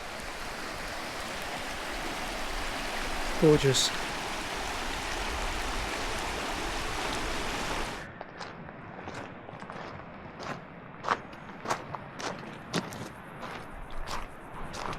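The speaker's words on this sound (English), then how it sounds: "Beautiful mountain river." A mountain river flows as a steady broadband rush through the first half, then softens after a cut, with a single short spoken word near the start.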